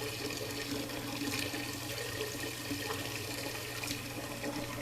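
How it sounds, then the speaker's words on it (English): Hot tap water runs steadily into a container for mixing Hacienda-brand masa for gorditas, a soft continuous rushing splash at moderate distance with no talk over it. "I'm just gonna use hot tap water."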